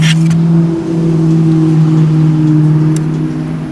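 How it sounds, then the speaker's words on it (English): Loud car engines rumble and whir close by as vehicles pass along a street, a steady low drone with a brief swell partway through. "Sorry for the very loud cars."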